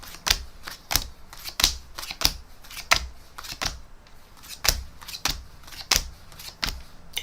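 Playing cards are flicked through by hand one at a time at close range, giving a quick irregular series of sharp snapping clicks with brief pauses, no talking.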